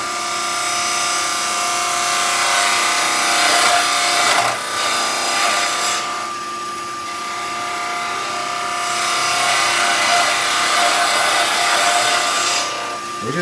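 A wood-turning tool rubs its bevel and cuts into spinning wood on a lathe, producing a loud, continuous rushing hiss that swells and eases in long passes.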